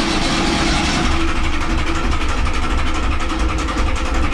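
A sailing yacht's inboard engine, on an abandoned boat under restoration, runs steadily with exhaust smoke coming out: a continuous low, rumbling drone that stays even throughout and is loud and close.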